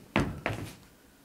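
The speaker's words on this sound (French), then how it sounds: "La mamée ouvre la porte." An old door is handled in two sharp wooden knocks or thunks about a third of a second apart, close and fairly loud, followed by quiet room tone.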